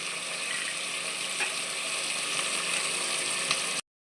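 Vegetables and chickpeas fry in oil in a pan for a Ram Navami veg thali, giving a steady, close sizzle with faint stirring scrapes throughout, no talk.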